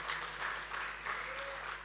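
A church congregation at a Sunday online service claps, a soft, fairly distant patter of applause running steadily throughout.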